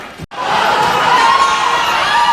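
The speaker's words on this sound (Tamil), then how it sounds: "ஒரு மிகப்பெரிய கைத்தட்டலோட புரட்சி தமிழ் சத்யராஜ் சார் ஒரு பெரிய கைத்தட்டலோட everybody together." A large crowd roars and cheers for Tamil actor Sathyaraj at a movie pre-release event, a loud sustained wall of shouting and whooping that swells after a brief cut near the start and holds steady.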